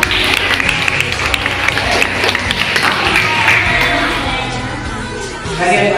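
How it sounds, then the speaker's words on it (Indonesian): Students in a classroom applaud together, a loud, dense stretch of clapping mixed with chatter and voices that carries on for several seconds and only eases slightly near the end. "Tepuk tangan untuk kita semua."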